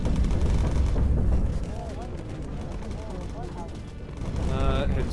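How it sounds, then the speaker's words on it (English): In the Bomber Crew game, anti-aircraft flak bursts around a British bomber with heavy booming thuds and rumbling blasts. They are loudest at the start and end, and someone talks over the barrage. "receiving a lot of flak"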